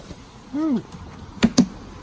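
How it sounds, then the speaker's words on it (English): Plastic trim clips snapping into a Jeep JL tail cover: two sharp, close clicks in quick succession, after a brief vocal exclamation. "So you can hear those clips clipping in"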